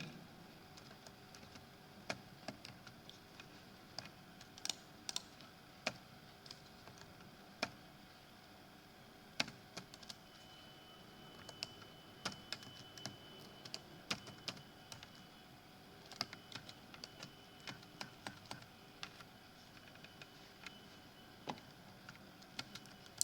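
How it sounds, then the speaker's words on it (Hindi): Light clicking keystrokes on a computer keyboard as a line of text is typed, scattered quiet taps in irregular bursts over a faint background hum. "ये लाइन को मैं टाइप कर लेता हूँ।"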